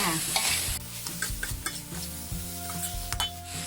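Okra stir-fried with minced pork and shrimp paste over high heat sizzles steadily in a pan, with repeated scraping and clanking strokes of a spatula stirring close by.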